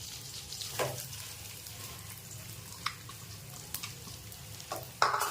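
Grated fresh coconut sautéing in ghee in a pan for ukadiche modak: a steady soft sizzle with occasional spatula scrapes and clicks, close and fairly quiet, with no talking.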